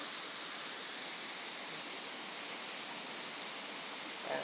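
Heavy rain pouring down outside a rural family home, a steady, dense hiss of falling water that stays even and loud throughout with no pauses and no voices.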